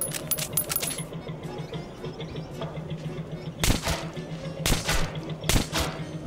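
Gunfire in the video game Metro 2033 Redux: three loud, sharp shots spaced about a second apart over a low, humming game ambience.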